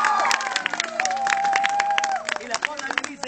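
A group applauds and cheers for a freshly lit campfire, with clapping and excited voices close by while someone talks over the noise.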